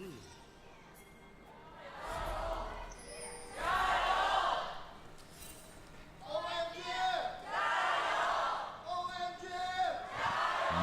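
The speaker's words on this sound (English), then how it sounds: "You can hear the moment that the crowd is faded in there." A large indoor esports arena crowd at a League of Legends match cheers in bursts, swelling loudly several times between quieter stretches, with whoops and chanting voices echoing.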